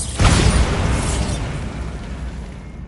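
A single deep boom erupts from the Bombarda blast spell in Hogwarts Legacy, a sudden loud burst that rolls into a long rumbling decay lasting a couple of seconds.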